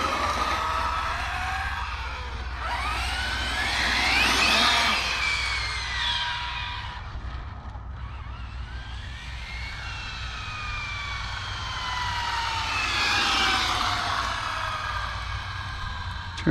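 An Arrma Felony 6s RC car on its first battery run whines loudly with a high electric motor pitch that rises and falls as it accelerates and slows, passing near then away twice over a steady outdoor rumble.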